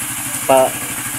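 A Suzuki Raider 150 Fi motorcycle engine idles steadily close by with a low, even hum, while a short voice or horn-like tone briefly rises over it.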